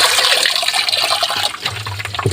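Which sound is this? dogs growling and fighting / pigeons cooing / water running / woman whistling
water running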